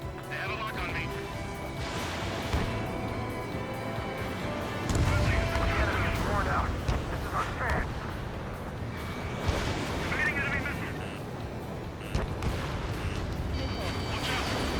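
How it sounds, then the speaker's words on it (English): Missiles explode and guns fire in the Ace Combat 7: Skies Unknown flight game as repeated booming blasts and rumbling crashes roll over continuous jet noise, while voices talk over the action. "Missile on its way. Missile hit."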